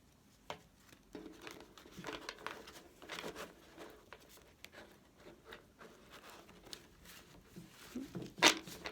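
A deck of tarot cards is shuffled by hand, giving repeated soft papery riffles and rustles in irregular bursts, close and quiet, ending in a sharper snap of cards.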